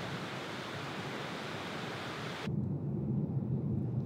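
A waterfall beside the Sognefjord in Norway, heard up close as a loud, steady broadband roar of falling water that turns deeper and heavier partway through, with no voices.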